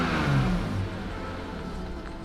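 A BMW E46 engine gets a light rev, a brief swell of engine noise at the start that eases back to a steady running note, heard up close with no talking.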